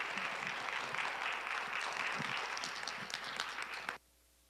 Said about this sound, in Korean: 또 같이 박수하시면서 또 맞이하시면 좋겠습니다